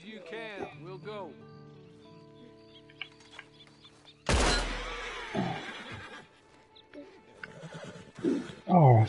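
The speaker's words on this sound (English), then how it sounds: "And you better get on this horse." A horse in the video game Red Dead Online gives a neigh with rising and falling whinny tones, followed by a loud crash and other game noises, with a voice talking over parts of it.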